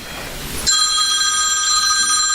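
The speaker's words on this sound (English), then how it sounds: "and then the phone rang" A telephone bell rings loud and sustained, a steady bright trill that cuts in abruptly after some muffled background noise and continues to the end.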